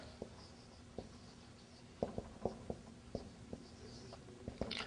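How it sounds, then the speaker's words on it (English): A pen taps and scratches on paper in faint, close strokes, a dozen or so small irregular ticks spaced across a quiet background. "I will write down, brother."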